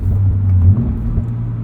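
A 2023 Toyota GR86 Premium with six-speed manual gearbox and GR Performance exhaust, heard from inside: a loud, close, low engine-and-exhaust drone that swells briefly and then settles into a steady rumble.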